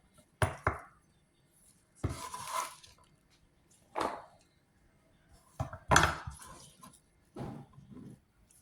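Green onions and chrysanthemum greens chopped together with a knife on a board, heard as several separate close bursts of quick cuts with quiet gaps between them.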